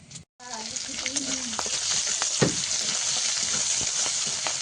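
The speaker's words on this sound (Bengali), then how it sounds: "তেলে তো কাঁকড়াটা দিয়ে দিয়েছি আর সঙ্গে একটু পেঁয়াজ ফোড়নও দিয়ে দিয়েছিলাম" Crab fries in hot oil with onion tempering, a dense sizzle breaking out right after a brief drop to silence and holding loud throughout, with stirring clatter and a short voice early on.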